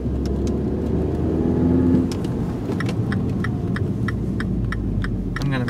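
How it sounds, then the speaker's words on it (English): Manual transmission car accelerating after a shift into third gear, a steady close engine drone with a brief rise in pitch, then a continuous even hum from inside the cabin, with faint light clicking and rattling over it. "put the clutch down and take my foot off the gas and then put it up into third gear"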